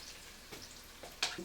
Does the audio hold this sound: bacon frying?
yes